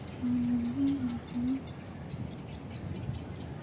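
A few loud, low hooting calls from a large bird, three drawn-out notes in the first second and a half, over steady wind noise.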